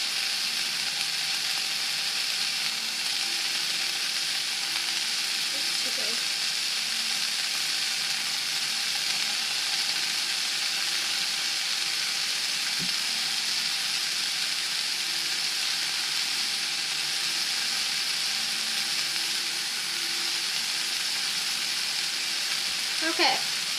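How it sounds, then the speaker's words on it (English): Bologna sizzles in a hot frying pan on the stove, a steady, bright hiss that holds evenly throughout with occasional faint clicks and light utensil touches, no talking. "This is an instant sizzle because the pan is still on."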